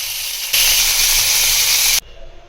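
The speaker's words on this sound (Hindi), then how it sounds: "एक एक करके इनको फ्राई कर लेंगे।" Chicken pieces hit hot ghee in a pan with a sudden loud hiss that holds steady for about a second and a half, then cuts off abruptly into a softer lingering crackle.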